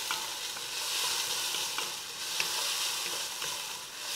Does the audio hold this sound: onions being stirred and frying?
yes